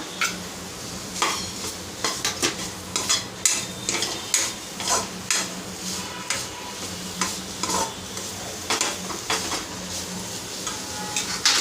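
Ingredients sauté in a pan before potato goes in, a steady sizzle under repeated scraping and clinking strokes of a spoon stirring against the metal, close and rhythmic with no talk.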